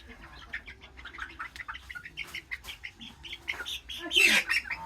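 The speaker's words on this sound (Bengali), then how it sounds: "ধরো আমাদের এই মুরগিটা ধরো, আরেকটা বের করি।" A chicken squawks and clucks in agitated bursts as it is caught for slaughter, with flapping and scuffling, while people talk nearby; the loudest squawk comes near the end.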